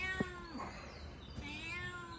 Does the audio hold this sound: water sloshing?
no